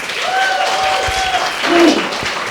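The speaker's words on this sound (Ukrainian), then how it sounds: "Вступне слово Діма Захарченко, ваші оплески." Steady applause from a roast battle audience, a dense patter of clapping that carries through the whole moment with a few faint voices mixed in.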